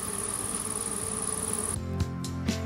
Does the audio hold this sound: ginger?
no